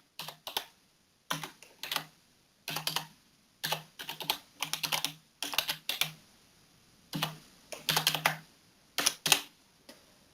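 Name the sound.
typing on a computer keyboard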